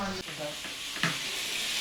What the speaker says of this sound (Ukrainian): Смажиться рибка.